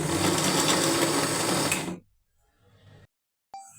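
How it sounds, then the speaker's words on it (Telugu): An electric mixer grinder blends peanuts, ragi flour and jaggery in its jar with a loud, dense, steady whir for about two seconds, then cuts off, leaving faint rustling and a brief click at the end. "వీటన్నింటిని మిక్సీ చేసుకుందాం."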